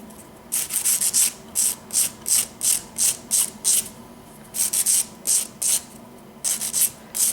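Rough metal file rasped back and forth across a metal piece, a quick rhythmic series of scraping strokes in bursts with short pauses, close and fairly loud.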